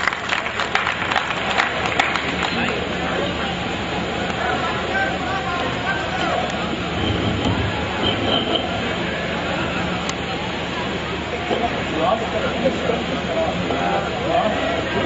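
Loud applause from the audience at a poetry gathering in Bhiwandi welcoming the poet Iqbal Ashhar, a steady dense clapping wash mixed with crowd murmur that continues throughout.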